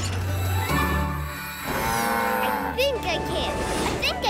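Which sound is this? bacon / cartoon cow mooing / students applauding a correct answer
cartoon cow mooing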